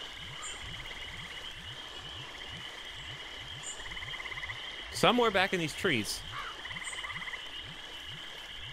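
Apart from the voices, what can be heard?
frog croaking in a video game (Finding Bigfoot)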